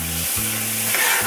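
Cornstarch cooks in a pan over medium heat with a loud, continuous sizzle and light stirring sounds, close up and without any talk.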